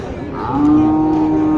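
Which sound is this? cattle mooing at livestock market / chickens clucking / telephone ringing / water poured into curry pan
cattle mooing at livestock market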